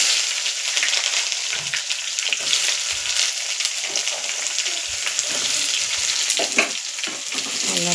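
Onions deep-frying in hot oil in a kadai with mustard seeds and curry leaves, a steady close sizzle with crackling pops throughout, occasional stirring clinks.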